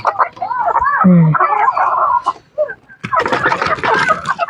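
A labuyo junglefowl being caught and handled, giving close, loud clucks and squawks alongside someone talking.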